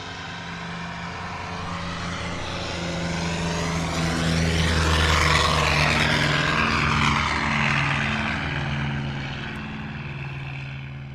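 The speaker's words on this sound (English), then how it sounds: "Lined up on the runway and starting to roll. Here goes George Raab in the F4U Corsair." A propeller-driven F4U Corsair fighter, serial number 1245, rolling down the runway for takeoff at an airshow, its deep radial engine roar building steadily, swelling to a loud peak midway and then holding strong.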